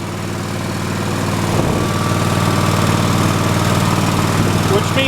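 A Briggs and Stratton small engine running fast, a loud steady buzzing drone with a firm low pulse, continuous and close, briefly bumping up in intensity early on before holding even.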